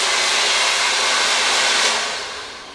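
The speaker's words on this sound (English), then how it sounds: "You keep the blow dryer moving straight and pull the brush down." A handheld blow dryer roars steadily close by while hair is round-brushed, a loud airy hiss that holds constant and then eases off as the dryer moves away near the end.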